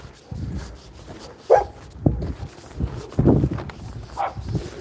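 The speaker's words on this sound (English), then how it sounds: "there's a lot of dogs inside there. You can hear them just going crazy in there" Many dogs bark and yip inside a kennel, a scattered run of sharp barks from several animals at moderate distance, some louder than others.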